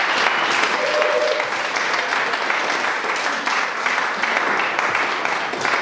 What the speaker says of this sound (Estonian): Teeme neile korraliku aplausi.